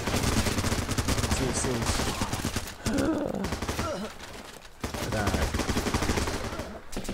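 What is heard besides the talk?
gunfire in the video game Running with Rifles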